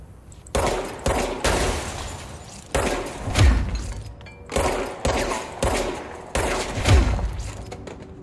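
Rapid bursts of gunfire tear into grass in the Control video game, with about eight loud, separate volleys and rattling, shattering debris between them, and no talk.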